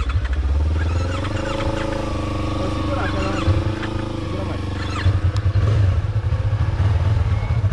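A Yamaha MT-03 motorcycle engine runs loud and close, rumbling at a steady idle before its revs climb in throaty bursts. The pitch rises and falls, with rattling and clatter and some voices over it.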